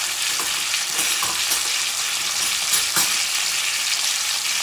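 Bison porterhouse steak sizzles loudly and steadily in a pan of butter and garlic, with a dense, crackling hiss and occasional spatters and scrapes, close up and without talk.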